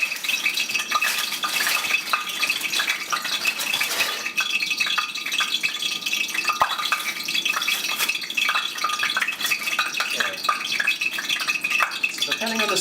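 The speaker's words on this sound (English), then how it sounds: "So now I've got my dozen tortillas here, and I'm going to start frying them." Corn tortillas frying in hot oil in a pan: a steady, dense sizzle runs loudly throughout, with occasional light clinks and rattles of utensils against the pan.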